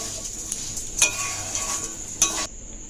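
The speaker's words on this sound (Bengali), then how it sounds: "দিয়ে ভালোভাবে চিনিটা এর সঙ্গে মিশিয়ে নেব নারকেলের সঙ্গে।" Sugar being stirred into grated coconut in a pan, with a steady faint sizzle under two sharper scraping clinks of the utensil against the metal.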